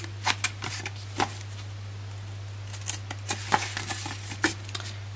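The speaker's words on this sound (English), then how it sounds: "I'm just going to snip up them, all 4 of them." Scissors make quick, crisp snips as they cut 2-inch score lines into patterned paper for a narrow gift box. The cuts come in small clusters over a low, steady background hum.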